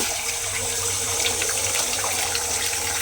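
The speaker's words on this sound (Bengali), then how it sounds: "এইবারে এই ডিমটা আমি তেলের মধ্যে দিয়ে দেব।" Beaten egg in hot oil makes a continuous, fairly loud sizzling hiss from start to end, close and unbroken, with no voices.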